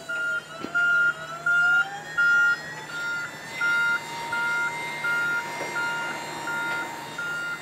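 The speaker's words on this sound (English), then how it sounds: "So it's going down right now. Once it goes all the way down, the arrow board is going to automatically go up on the back of the truck." Repeated electronic beeps from a crash attenuator truck as its attenuator lowers and the arrow board rises, about a dozen evenly spaced tones over a steady engine and hydraulic hum, fairly close with no talking.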